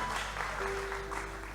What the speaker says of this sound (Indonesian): berikan tepuk tangan bagi Tuhan Yesus Kristus